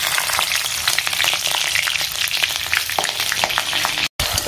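Nigella seeds and green chillies spit and crackle in hot oil, tempering for a ridge gourd and potato poppy-seed dish. The frying is loud, dense and close, with a brief cut to silence near the end.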